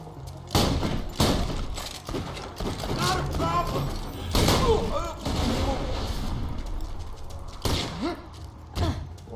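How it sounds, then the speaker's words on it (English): Shotgun blasts in Borderlands 2, several loud, close booming shots at irregular intervals amid game effects, with voices talking between them. "Shotgun."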